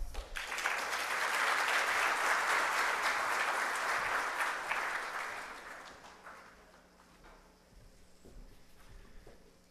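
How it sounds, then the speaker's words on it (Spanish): An audience at an event launching a bird-conservation poster in Loja gives a speaker a strong round of applause; the clapping swells for several seconds, then thins into scattered claps and room noise. "Para él, por favor, un fuerte aplauso."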